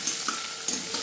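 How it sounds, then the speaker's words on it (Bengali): Onion frying in a pan sizzles steadily and close up, and a few light stirring scrapes cut through the hiss during a brief stretch with no voices. "আর পেঁয়াজটা লাল লাল হয়ে ভাজা হতে একটু টাইম লাগে"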